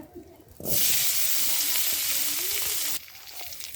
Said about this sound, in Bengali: তেলের মধ্যে জিরাটা দিয়ে দিছি আলুটি দিয়ে দেবো